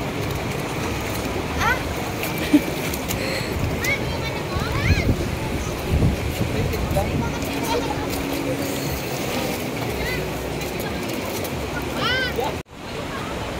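Strong river current rushing along the Palakol River in Floridablanca, Pampanga, a steady broadband roar of flowing water filling the whole stretch, with people chatting nearby and brief splashes over the rush.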